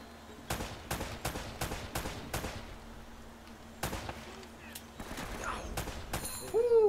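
Rapid bursts of video game gunfire from Uncharted, several clusters of sharp shots over a steady hum, with a brief electronic tone near the end.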